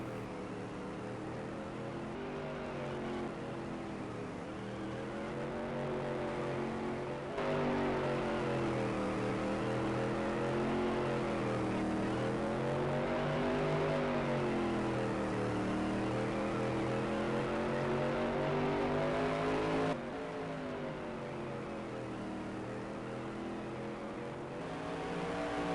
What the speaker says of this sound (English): watching the ultimate short track race cars, Supermodified Sim Racing at its finest